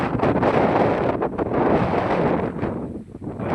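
Strong wind buffets the microphone in a loud, continuous roar with gusty surges, no voices.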